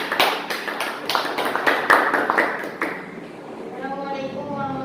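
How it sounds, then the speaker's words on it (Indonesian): Classroom applause for a student group, a burst of quick overlapping claps lasting about three seconds, then fading into room murmur. "Beri aplaus dulu untuk kelompok 1."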